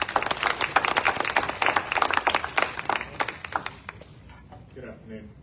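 An audience at a community election forum gives a round of applause, dense clapping that is loud at first and then fades over the last seconds, with some voices in the background.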